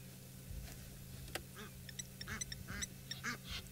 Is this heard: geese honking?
yes